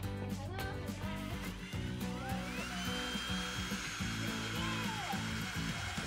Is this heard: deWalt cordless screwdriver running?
yes